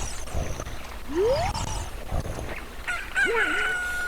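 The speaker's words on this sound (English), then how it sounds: "Look, a chicken hatched from the egg you were incubating." A video game chicken newly hatched from an incubated egg in The Legend of Zelda: Ocarina of Time gives a loud, close rooster crow with a rising call, followed by a warbling cluck, over faint background music.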